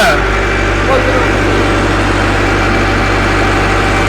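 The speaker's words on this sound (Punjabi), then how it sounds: "ਲਓ ਜੀ 1500 ਤੇ ਚੱਲਣ ਡਿਆ, 1500 RPM ਤੇ ਚੱਲਣ ਡਿਆ ਵਾ" Tractor engine running steadily at 1500 RPM to drive an irrigation pump, a loud, constant low-pitched drone heard close up throughout, with a voice talking over it.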